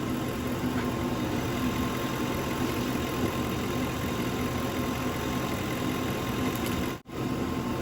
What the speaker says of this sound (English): I've let the car run for about 10 minutes, so now it's up to full operating temperature